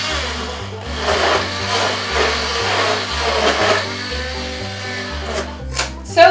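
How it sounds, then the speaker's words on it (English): A handheld blender whirs steadily through cake batter for a lemon bundt cake, a close, loud motor hum that rises and dips as it moves through the bowl, with a few knocks near the end. "So I'm gonna use this thing, a handheld blender."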